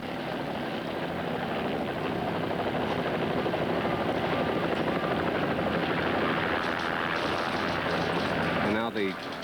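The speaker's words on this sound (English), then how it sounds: "And now the Park Service helicopter looking for another survivor who needs rescue." A National Park Service rescue helicopter hovering over the Potomac River after a 1981 plane crash gives a steady, throbbing rotor drone, with a news voice talking over it.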